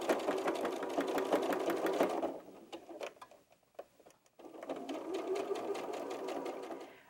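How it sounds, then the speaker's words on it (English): A sewing machine top-stitches the double hem of an 18-inch doll tank top, running in two steady bursts of rapid mechanical ticking, close and clear, with a short pause of quiet handling between them. "So we'll give it a nice double hem and we'll finish that with a top stitch."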